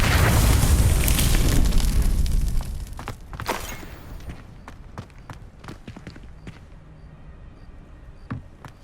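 A fiery blast from the Confringo explosive spell in the Hogwarts Legacy video game, a loud rumbling boom that fades over a few seconds into scattered faint pops and crackles.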